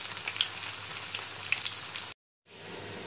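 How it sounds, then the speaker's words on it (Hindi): Potato and poha cutlets shallow-frying in hot oil, a steady close sizzle with crackling pops that cuts out briefly and then resumes. "इन्हें हम गोल्डन ब्राउन होने तक फ्राई करेंगे"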